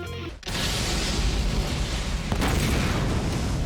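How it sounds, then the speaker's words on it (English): Loud, sustained roar of an explosion at the Tokyo Summit site in the animated film Detective Conan: Zero the Enforcer, bursting in after a brief quiet moment and rumbling on densely without letup. "It starts with another explosion, this time at the location of the upcoming Tokyo Summit."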